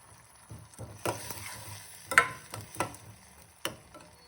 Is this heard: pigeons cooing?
no